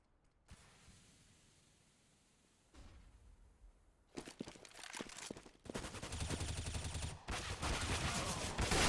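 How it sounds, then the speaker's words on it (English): P250 pistol gunfire in a competitive Counter-Strike match on the Mirage map, heard as quiet background noise that gives way to dense, loud bursts of shots in the second half. "first frag by MSL, Kierby and AZ with the P250 in the A bomb set, stopping the terrorist push"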